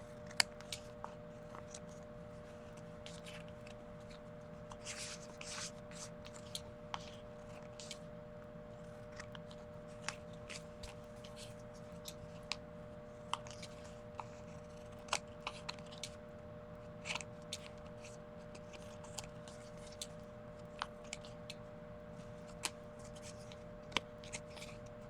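Scissors trimming mixed media art cards made from magazine paper, sharp intermittent snips and paper rustles close by over a steady low hum, with no talking.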